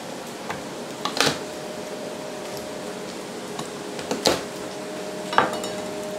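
Onions cook in a pan with a faint sizzle throughout, broken by a few sharp clanks and scrapes of a utensil stirring against the pan, near and intermittent, with a fan humming steadily underneath.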